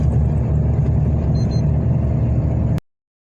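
A car drives along a free-flowing road, a steady loud low rumble of engine and tyres that holds evenly, then cuts off abruptly near the end.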